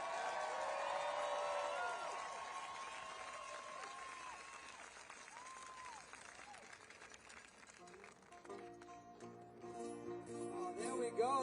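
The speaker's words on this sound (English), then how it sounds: "a big round of applause for all the people who worked so hard in putting all this together" A crowd at a political protest rally in Washington, D.C. applauds and cheers, a broad, distant wash of clapping and voices under amplified speech echoing across the open space.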